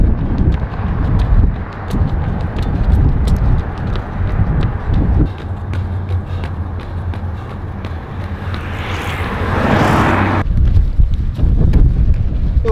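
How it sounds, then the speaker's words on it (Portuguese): Strong wind gusting past a microphone during an outdoor endurance training session, a loud, rough, buffeting roar that runs throughout, with thumping impacts and a sharp gust surge before cutting abruptly. "Há uma grande ventania."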